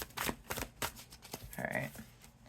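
An oversized tarot deck is shuffled by hand in a series of quick, papery bursts, close and moderately loud, with a brief swishing stretch near the end.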